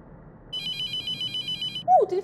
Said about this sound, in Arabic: تليفون عم يرن